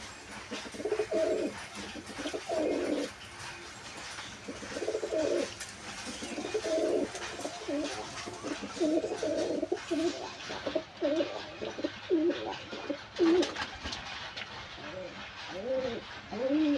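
A pair of pet pigeons, a green female and a male, coo in repeated soft bursts close by, with short pauses between phrases and quiet surroundings.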